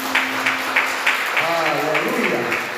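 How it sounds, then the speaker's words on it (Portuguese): A church congregation claps in a steady rhythmic beat while a voice sings or calls out over the hands, moderately loud and close. "Vamos aplaudir o Senhor."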